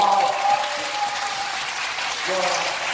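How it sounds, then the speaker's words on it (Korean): Around two hundred church members at a congregational retreat clap together in a loud burst of applause, while a voice is heard at the start and again near the end. "자, 박수 세번 쳐보겠습니다."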